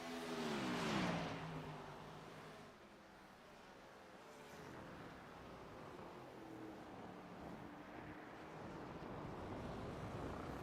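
SRX race car accelerating in iRacing at Road America, a faint engine rising in pitch through its revs over a steady rushing, wind-like noise, heard at a distance.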